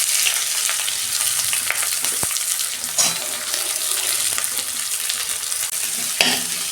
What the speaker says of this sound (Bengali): পেঁয়াজটা 2 মিনিট ভেজে নেবো